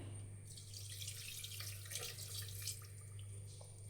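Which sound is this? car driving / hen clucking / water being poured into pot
water being poured into pot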